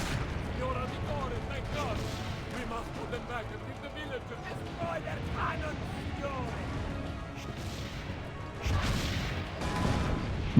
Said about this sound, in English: we're going to go over here and man the cannons